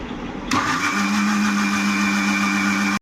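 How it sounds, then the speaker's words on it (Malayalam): A mixer grinder whirs steadily as it blends sapota with milk and Horlicks into a shake, the motor starting abruptly and running loud and continuous until it cuts off at the end. "ഇതെല്ലാം കൂടി നല്ലതുപോലെ ഞാൻ മിക്സിയിലിട്ട് അടിച്ചെടുക്കാൻ പോവേണ്ട."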